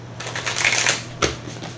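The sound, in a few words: shuffling a deck of tarot cards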